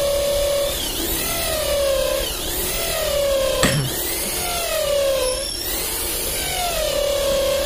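An electric impact drill bores into wood in repeated strokes: a whining motor pitch that sags under load and recovers, cycling about four times, close and steady with no talk.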